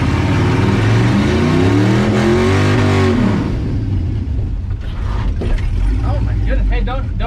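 A Ford Ranger with a swapped 5.3 LS V8 engine revs loud and close from inside the cab, climbing and falling in pitch, then settling into a rough idle with clicking mechanical noise. People talk over the engine.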